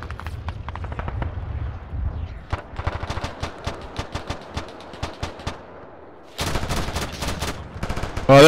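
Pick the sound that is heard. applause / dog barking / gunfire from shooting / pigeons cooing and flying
gunfire from shooting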